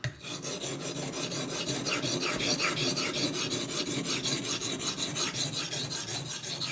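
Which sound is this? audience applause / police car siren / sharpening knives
sharpening knives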